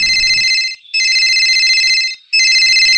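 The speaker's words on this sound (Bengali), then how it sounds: "ঘরে মনে হয় ফোনটা বাজছে রে" A phone ringtone plays loud and close in a home, a bright electronic melody sounding in three bursts separated by short gaps, with no voices.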